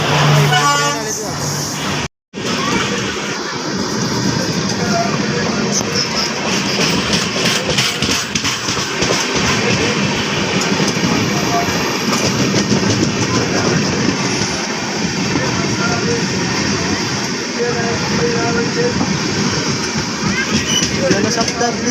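A passenger train heading to Mumbai gives a continuous loud rumble and rattle of carriages, with one brief dropout early on and people talking over the noise.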